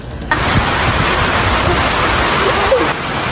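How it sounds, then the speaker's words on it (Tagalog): Loud, continuous roaring wind noise buffeting close by, a broad rushing hiss that stays steady from start to finish. "Ang lakas ng hangin dito, Jaytan!"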